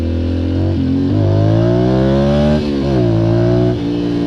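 A Duke Blade motorcycle's engine revs repeatedly during a wheelie attempt, loud and close, with rising and falling pitch sweeps as the throttle is opened and eased, no talk over it.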